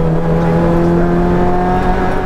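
Loud, steady engine drone from inside a car, a sustained hum with a slight pitch shift, close and continuous.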